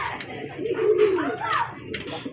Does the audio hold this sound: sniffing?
no